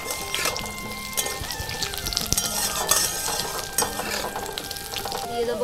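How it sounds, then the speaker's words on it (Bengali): Potatoes sizzle steadily in hot mustard oil with a dry red chili tempering, stirred in a pan, a close continuous crackle broken by repeated scraping and clinking of the spatula against the metal. "এবার আলুগুলো একটু ভেজে নেব।"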